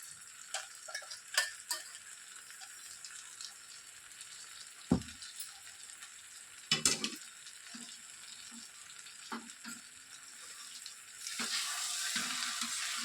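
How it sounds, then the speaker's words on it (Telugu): A spoon stirs ground sesame powder into a simmering curry, scattered scraping and clinking taps over a soft bubbling sizzle that grows fuller toward the end, with no talking. "మిక్సీ పట్టేసుకున్నటువంటి ఈ నువ్వుల పొడిని ఇందులోనికి వేసేసి ఒక్కసారి బాగా కలిపేసుకోవాలండి"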